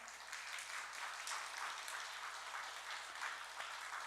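Steady applause from a church congregation during a Sunday service, a continuous even patter of clapping at moderate volume with no voices.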